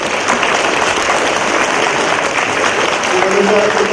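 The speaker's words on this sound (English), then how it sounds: "Give yourselves a round of applause" A crowd applauds steadily at an elementary school Veterans Day assembly, dense clapping filling the whole stretch at close, loud level.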